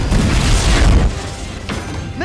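A loud, deep boom with crackling debris rolls out, then fades into a rumbling tail with a second softer burst.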